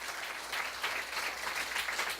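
Audience applause at a university thesis-presentation event, a steady dense clapping from a hall crowd lasting a couple of seconds.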